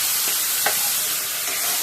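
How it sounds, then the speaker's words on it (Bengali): Garlic frying in hot oil for a home-style curry gives a steady broadband sizzle, with a brief louder crackle and faint stirring scrape near the middle, heard alone without talk. "এবার রসুনগুলো একটু লাল করে ভাজা হয়ে গেছে"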